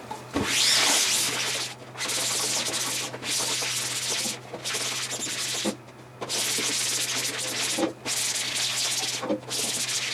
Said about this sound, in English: you continue to wipe this down until the emulsion is as clean as possible